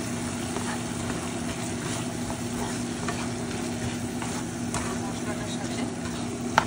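String beans being stirred into frying masala in a pan, an even, steady sizzle with scraping stirs and a brief knock near the end, close to the listener.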